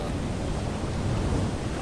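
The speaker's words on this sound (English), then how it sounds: "water splashing the wall" Sea waves splashing against a wall, heard from a kayak out on the ocean, a continuous wash of surf and water churn with wind buffeting the microphone.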